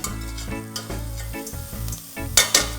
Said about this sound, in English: And I give everything a good stir. And I add the lentil in.